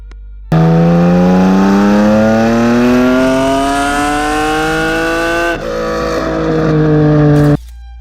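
Mercedes-Benz CLK GTR with a 6.9-liter naturally aspirated V12 revving hard and loud, pitch climbing steadily for several seconds, a brief dip near the end, then holding high before cutting off; no talking.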